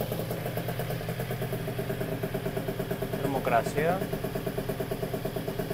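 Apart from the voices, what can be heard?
Piaggio Zip two-stroke scooter engine idling while warming up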